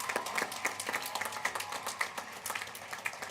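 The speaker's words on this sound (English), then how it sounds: "Let's give them another round of applause." Graduation audience at W.F. West 2024 gives a round of applause, a thin scatter of claps with some distinct individual hits, fairly quiet and distant across a large hall.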